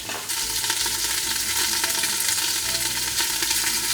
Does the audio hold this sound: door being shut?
no